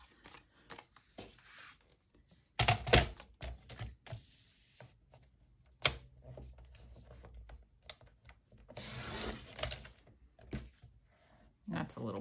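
Paper collage ephemera being cut down by hand, giving intermittent crisp snips and rustles at close range, separated by quiet gaps.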